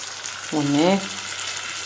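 Rice fries in a pan with a steady, close hiss and crackle of sizzling grains, while a voice briefly sounds over it.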